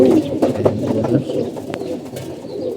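Pigeons of a breed kept for fancy cooing close by in a loft, low throaty coos repeating over a soft murmur.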